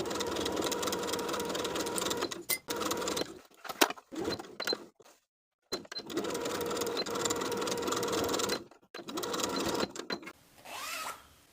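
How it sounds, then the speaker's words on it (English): A sewing machine edge stitches the lining of a pencil skirt in long close runs, broken by brief stops and a silent gap, then ending in fainter handling sounds. "I'm going to edge stitch with about 1/8 of an inch to a 1/4 of an inch seam allowance, making sure that you're catching that folded edge of the lining as you sew"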